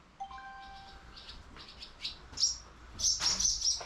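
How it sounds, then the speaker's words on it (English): Sparrows chirp around a nest with baby birds in it, giving a rapid series of high tweets and short calls that grow busier and louder toward the end, close by with no talk. "The very last thing that's stopping us are these sparrows."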